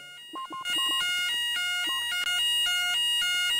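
A fire alarm sounding inside a store in the Roblox video game, rapid repeating electronic tones in a looping melodic pattern, loud and continuous with no talking over it.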